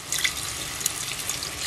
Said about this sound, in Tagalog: Then dito po, lagyan natin ng tubig.